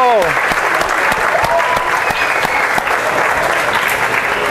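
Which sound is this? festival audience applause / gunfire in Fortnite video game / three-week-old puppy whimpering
festival audience applause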